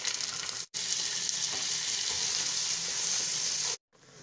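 Rice sizzles and fries steadily in hot ghee in a pan for carrot pulav, a dense continuous crackle with two brief cuts, no voices.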